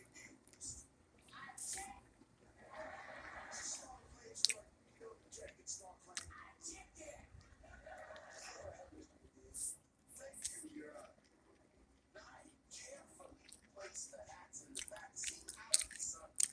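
Someone chewing a melted bologna and cheese sandwich close to the mic, with soft wet bites and crunches in irregular bursts, broken up by short stretches of quiet talk.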